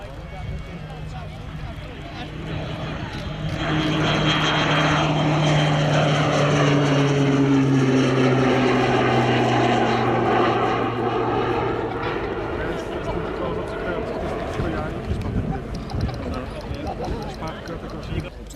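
A Royal Air Force display aircraft at the Cosford Airshow flies past, its propeller engine droning up to a sustained roar and slowly fading, while a public-address commentator talks over it.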